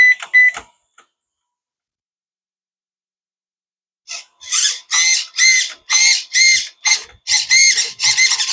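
Steering servo on an FMS 1/7 scale RC trophy truck in RTR form: after a few brief chirps and a long silence, a rapid series of about a dozen short, loud, whiny electric buzzes as the wheels are turned back and forth.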